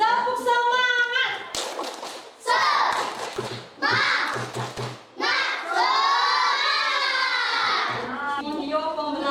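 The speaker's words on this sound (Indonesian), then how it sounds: "kita supaya lebih semangat lagi kita tepuk semangat ya" Children in a classroom perform a 'tepuk semangat' clapping chant, loud rhythmic clapping mixed with shouted chanting voices and cheering, close and energetic throughout.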